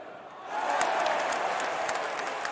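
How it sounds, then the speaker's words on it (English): A football stadium crowd bursts into cheering and applause, a broad roaring wash that rises suddenly and holds, heard from a distance with faint voices mixed in. "The crowd went crazy with excitement"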